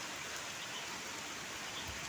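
Heavy rain falling in Kolkata makes a dense, even wash of hiss that runs without a break through the short stretch.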